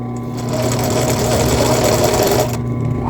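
A sewing machine stitches bra elastic and lace in one continuous run, a loud close motor whir that starts almost at once and cuts off just before the end.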